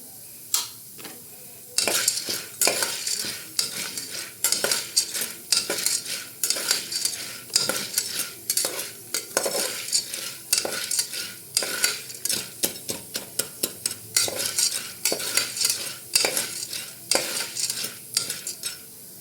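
Maize kernels for popcorn are stirred and roasted in a pan with oil and salt, a utensil scraping and clinking against the metal in a steady irregular rhythm over a light sizzle, close and clear.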